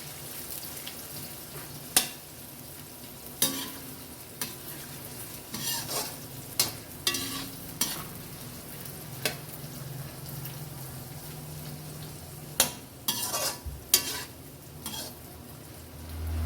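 Onions soft-sizzle in a pan with salt as a spatula scrapes and stirs at irregular intervals, sharp clinks and scrapes standing out over the steady fry.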